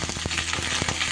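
Spring onion greens and eggplant fry in hot oil with a dense, steady sizzle and crackle, close and loud, with faint stirring bursts and no talking.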